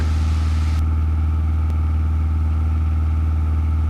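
A Cessna 172 piston engine drones steadily in flight, a loud continuous low hum filling the cabin throughout with no speech over it.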